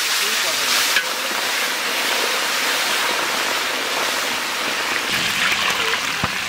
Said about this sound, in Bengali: খুব সুন্দর ভাজা হচ্ছে